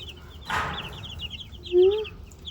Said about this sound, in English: These are our little chicks at 2 weeks old now.